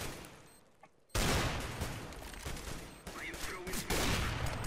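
Sustained close-range gunfire in CS:GO erupts suddenly after a quieter lull and continues densely for several seconds, with a player's voice faintly mixed into the shots.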